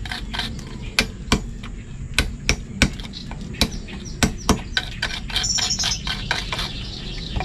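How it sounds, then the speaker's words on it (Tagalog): Sharp hammer blows strike at irregular intervals, about a dozen loud knocks close by, with faint birdsong in the background. "Yan ang ating martilyo."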